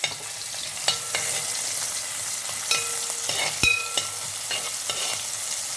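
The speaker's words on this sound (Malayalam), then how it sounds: "വെളിച്ചെണ്ണ ചൂടായി, നമുക്ക് സവാള ഇട്ട് കൊടുക്കാം കേട്ടോ" Onions frying in hot coconut oil for a Kerala koorka beef roast, a steady close sizzle with sharp clinks and scrapes of a spoon stirring the pan, no talking.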